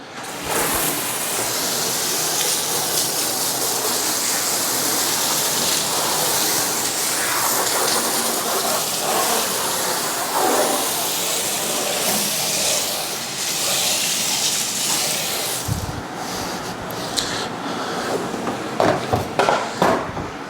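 Water sprays steadily from a garden hose as a car's rear end is rinsed off, a loud continuous hiss of spray running for the whole stretch, with brief spatter changes and clatter near the end.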